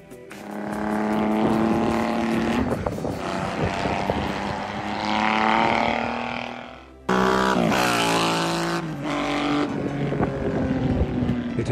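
Yamaha XSR 900 cafe racer built by Auto Fabrica, its engine and exhaust revving loudly and steadily with rising and falling tones, a short drop near the middle before the roar resumes.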